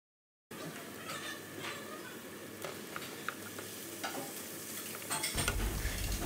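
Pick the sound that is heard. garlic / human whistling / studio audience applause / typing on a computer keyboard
garlic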